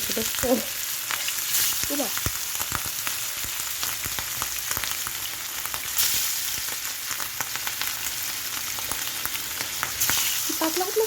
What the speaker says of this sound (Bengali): নতুন হাঁড়িতে রান্না বসিয়ে দিচ্ছি মাছ ভেজে নেব এখন